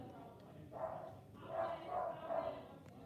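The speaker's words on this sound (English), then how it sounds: "Dogs are barking." Several dogs barking at a house, a few muffled barks from some distance, quiet and spaced over a few seconds, with soft talk in the background.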